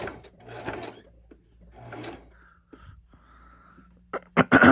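Sewing machine stitching a fabric dryer mat runs in short slow bursts with a soft mechanical whirr, pausing between runs, ending in a few louder knocks and clunks up close.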